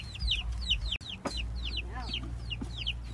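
Chicks on a farm peep in quick, repeated high chirps, with a soft cluck in between, heard close over a low background rumble and a brief thump, with no talking.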